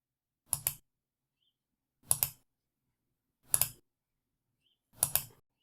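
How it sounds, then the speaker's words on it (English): Computer mouse clicks, four crisp double-clicks spaced evenly about a second and a half apart, close and dry with silence between them. "Click Refine Search again. Let's choose title from the options."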